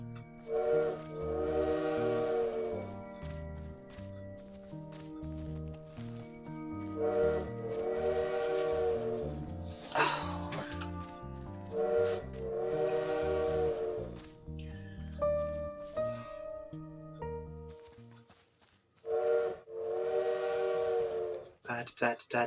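A bird imitating a train whistle in the video game Little Witch in the Woods: a repeated multi-tone whistle in several long blasts with short pauses, over a steady musical background.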